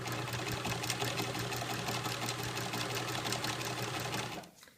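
Janome New Home Special Edition sewing machine winding thread onto a bobbin, a fast steady whirring motor hum with rapid mechanical clatter, close and continuous before stopping abruptly at the end.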